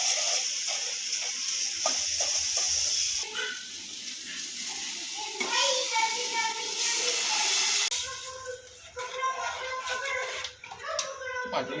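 Vegetable sabzi with onion cooking in oil in a pan, giving a steady hissing sizzle with occasional stirring scrapes, heard under people chatting nearby.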